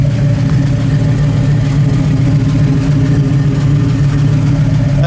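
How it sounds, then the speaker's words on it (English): A warmed-up 1971 Chevrolet Nova SS sits idling close by, its engine holding a steady, deep, even rumble from start to finish with no change in pace and no talking. "as it sits here and warms up, got up to 180, it really idles a lot better now too"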